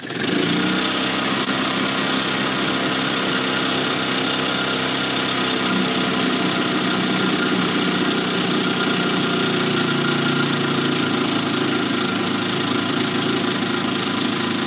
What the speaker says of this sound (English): it's got a little bit of a knock there, and you can hear that